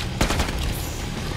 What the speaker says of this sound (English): This must be the medic gun.